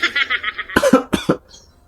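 A person coughs in a short burst of a few harsh, close coughs with a throat-clearing edge, preceded by a brief strained vocal sound and followed by quiet.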